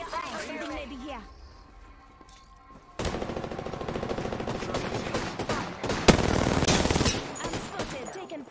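Bursts of automatic gunfire in the video game Apex Legends during a ranked match. A quiet stretch comes first, then rapid sustained firing from about three seconds on, with a sharp loud shot near six seconds and game voice lines mixed in.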